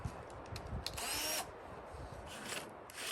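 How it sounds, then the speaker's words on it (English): A power drill whines steadily as it bores into the metal of a Toyota Tundra TRD Pro truck, with rising and falling pitch and brief pauses between bursts. "time to drill into my truck"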